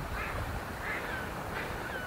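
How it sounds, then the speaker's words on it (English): A flock of ducks by a river call faintly in repeated quacks, three or so spaced cries over steady wind and outdoor noise during a November hike. "Oh, ducks, lots of ducks."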